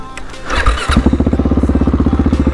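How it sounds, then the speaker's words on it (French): A 2018 Husqvarna 701 motorcycle engine fires up with a brief squeal, then settles into a loud, close, rhythmic chugging idle. "Parce que la moto fait du bruit quand même."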